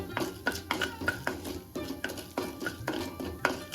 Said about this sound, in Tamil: பருப்பு பொன்னிறமாக ஆற வரைக்கும் வறுத்துக்கணும்